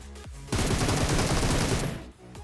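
Gunfire in PUBG at Rozhok bursts into a dense, rapid automatic volley lasting about one and a half seconds. It is loud and close, with short shots just before and after it.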